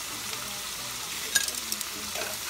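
Garlic and onion frying in oil until golden for a chicharrón salsa: a steady close sizzle and crackle, with a brief utensil clink partway through and no talk.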